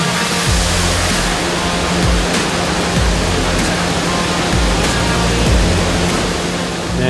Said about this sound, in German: Machen wir mal den Leerschuss ein bisschen auf, dass das Wasser runterfließt.